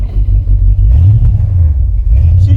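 An old car engine idles rich with a steady, loud low rumble and slight uneven clatter, heard close up and alone.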